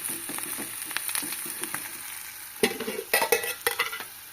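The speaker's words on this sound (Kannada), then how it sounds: "ಸ್ವಲ್ಪ ಫ್ರೈ ಮಾಡ್ತೀನಿ." Tempering for Kannada-style upma made with green chillies, sizzling in a pan with a steady frying hiss while a spoon stirs and scrapes, and louder clattering strokes come near the end.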